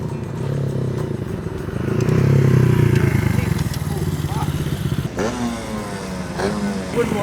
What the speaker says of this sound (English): I can hear bikes coming.